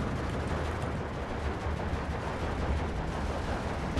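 Heavy 20mm cannon fire in the video game Steel Division 2 roars as a dense, continuous barrage of overlapping blasts, loud and steady throughout with no voices.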